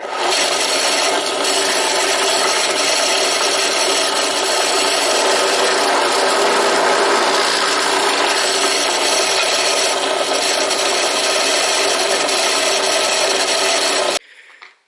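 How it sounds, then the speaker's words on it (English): A continuous harsh grinding rasp of a drill bit boring a 3/16-inch hole through wood, loud and close, running steadily for about fourteen seconds before cutting off. "Now we've got a 3/16 hole that's drilled all the way through."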